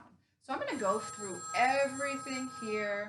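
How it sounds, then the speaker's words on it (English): A telephone rings with a steady tonal electronic trill behind a man's clear speech, the ringing sustained at moderate volume under his voice in an indoor workout setting. "that's my phone ringing, and I'm just going to let it go"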